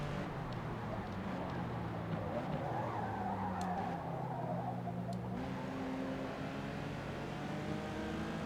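A race car braking hard and skidding in Forza Motorsport, with a steady engine drone and a rising, wavering tire squeal in the middle, heard at moderate level throughout.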